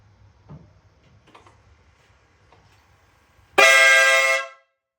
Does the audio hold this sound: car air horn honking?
yes